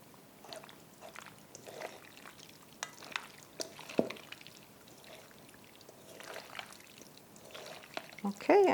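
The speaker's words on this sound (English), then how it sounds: "And add a little more oil." Oil poured over South German potato salad and mixed in, soft wet slurping and stirring squelches with faint clinks, close and moderately quiet, with a voice briefly near the end.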